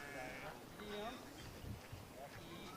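Sheep bleat faintly at a yard dog trial in Oberon, NSW, at the yard dog championships, a few distant cries under steady outdoor noise and voices.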